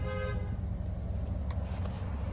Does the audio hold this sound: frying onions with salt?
no